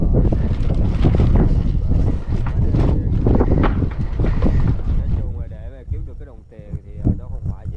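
A boat engine drones loudly at night with wind buffeting the microphone and water sloshing against the hull as it steers against waves at sea, easing off toward the end.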